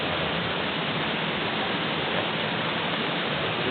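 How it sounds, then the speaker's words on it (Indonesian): Rushing water at Stokel waterfall in East Lombok makes a constant, loud, broadband roar with no gaps or change in level, and no voices come through over it. "Ini suara airnya udah cukup deras."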